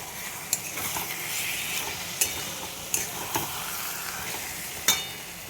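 Green chilies and fish fry in a pan with a steady, moderate sizzle, while a utensil stirring them makes several sharp metallic taps and scrapes against the pan.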